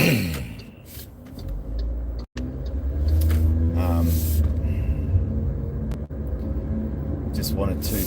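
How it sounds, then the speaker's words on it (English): A police car drives past with a low engine rumble and road noise that swells and fades, while a person talks over it. "police car just drove past"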